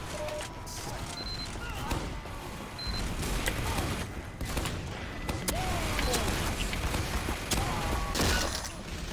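Rapid video game gunfire bursts from a shooter match, with sharp shots, thumps and scattered clatter filling a dense, constant mix throughout.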